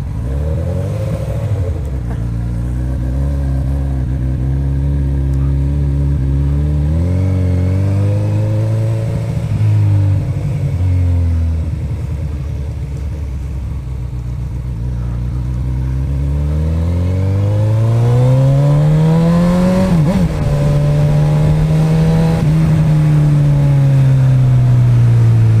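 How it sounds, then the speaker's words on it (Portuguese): A Honda CB1000 motorcycle being ridden, its engine loud and close as it revs up and down through several long rising and falling pulls, with steady engine drone throughout and no talk. "Bora andar na CB1000."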